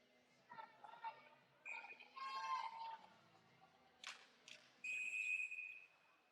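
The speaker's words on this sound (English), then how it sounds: "Referee blowing his whistle here." During a high school hockey playoff game between Fayetteville-Manlius and Baldwinsville, a referee's whistle shrills in a couple of blasts, the last one long and steady, heard over distant arena noise and commentary.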